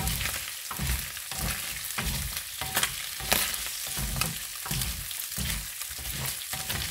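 Pork browning in a pan sizzles loudly and steadily while a utensil stirs it in a regular rhythm of scraping strokes, nearly one each second. No talking.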